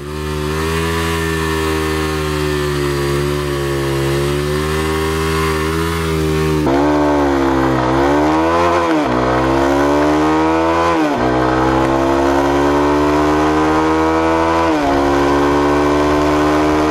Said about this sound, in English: the noise of this bike is not the best possible